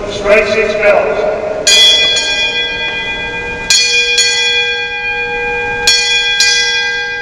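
Ship's bell rung at a Navy retirement ceremony, sharp metallic strikes in spaced pairs with long ringing decay, struck several times and heard loud and close.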